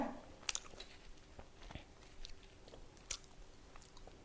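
Close-up crunchy chewing of batter-fried wild garlic leaves, with a few sharp crisp bites among softer, irregular mastication sounds, quiet and without talk.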